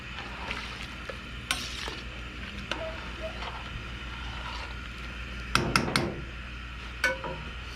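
Chunks of turkey meat are stirred into a pot of turkey and andouille sausage gumbo, with soft scraping and sloshing and a few sharper spoon knocks against the pot near the end.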